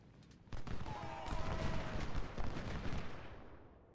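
Dense repeating-rifle volleys crackle in an Ultimate General: Civil War cavalry battle, a rapid mid-distance clatter of overlapping shots that starts abruptly and keeps up for several seconds, with a faint voice underneath.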